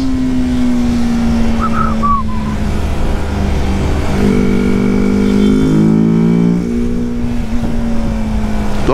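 BMW 310GS motorcycle engine pulling hard down a mountain road with no filter, its revving tone rising and shifting through the gears, loud and close throughout with no talk.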